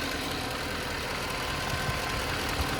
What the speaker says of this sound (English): the engine idles dead smooth